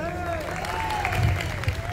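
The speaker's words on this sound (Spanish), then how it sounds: "Un aplauso para ustedes" A crowd applauds three children representing their schoolmates at a Spanish school's carnival celebration in Tangier, with dense, steady clapping lasting the whole moment under a sustained, wavering tone, likely a voice or instrument, running over the top.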